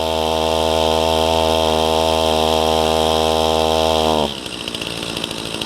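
A chainsaw works through a huge blown-down oak, its engine held at a steady, loud, strained drone with the chain brake engaged for about four seconds before the pitch collapses into a rough, lumpy idle.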